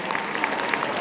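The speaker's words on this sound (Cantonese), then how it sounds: "我哋俾啲掌聲" Audience applause at a Hong Kong tribute concert, a steady wash of clapping from a large crowd that holds at an even level throughout, with no distinct voices standing out.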